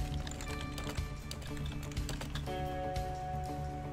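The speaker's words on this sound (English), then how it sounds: "Get this typed up." Rapid keystrokes clatter on a computer keyboard during a live baseball card case break, a continuous fast ticking run of typing, close and steady, under music or background tones, with no one speaking.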